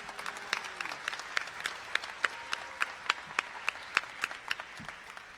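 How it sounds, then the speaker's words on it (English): Sparse, sharp claps, steady in rhythm, from a smallish group at a student music concert, fairly faint and distant. "So let's give everyone a round of applause."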